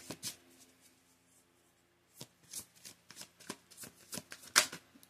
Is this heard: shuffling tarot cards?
yes